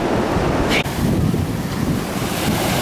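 Ocean surf rolls in at the shore under strong wind, a loud continuous roar of breaking waves with heavy wind buffeting the microphone.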